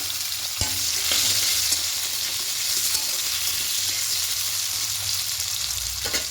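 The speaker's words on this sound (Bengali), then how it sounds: "আলুগুলো দিয়েও লাল লাল করে ভেজে নেব।" Potato pieces frying in oil in a pan sizzle loudly and continuously, with stirring scrapes and a sharp clank early on.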